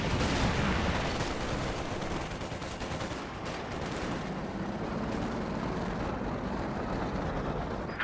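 Heavy gunfire and artillery from a WWII tank battle video game, a dense continuous roar of shots and booming blasts filling the whole stretch, loud and unbroken, with no voices.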